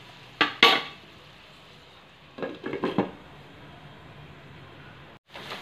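Onions cut into quarters cook in a pan, with two bursts of spoon stirring and scraping against the pan over a soft, steady sizzle.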